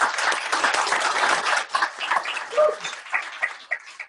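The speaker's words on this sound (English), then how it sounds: "Round of applause would be appropriate for Ken." A crowd applauds, dense clapping at first that thins into scattered claps and other stray noises as it dies down.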